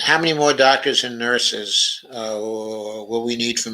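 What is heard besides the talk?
No distinct noise like a dog, phone or traffic.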